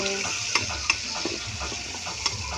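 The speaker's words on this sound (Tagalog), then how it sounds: "gigisahin na po natin itong bawang sibuyas" Garlic and onion sauté in a pan for adobo, giving a steady close sizzle with a few sharp scraping stir strokes and clinks standing out.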